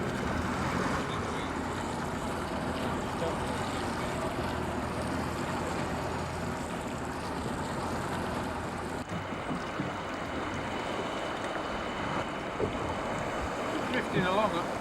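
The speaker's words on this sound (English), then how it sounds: "Drifting along a fair clip at the moment with this wind blowing." Constant wind roars over open water around a drifting bass-fishing boat, a dense broadband rush with microphone buffeting, gentle water movement and a few faint knocks, no voices.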